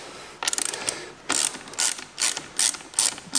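A 7/16 ratchet tightening the bolts of a motorcycle phone mount, giving close, crisp clicking bursts in a quick back-and-forth rhythm, about eight strokes with no talking.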